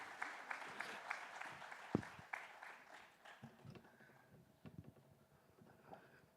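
Conference audience applauding, a short scattered round of clapping that thins and fades quickly, fairly faint, with a few stray claps and room noise after.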